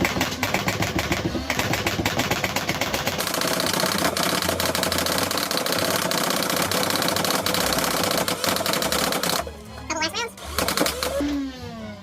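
A Nerf Rival Prometheus blaster revs its flywheels and fires in a rapid, loud mechanical clatter of roughly seven to eight rounds per second, sustained for several seconds, then winds down with softer clicks.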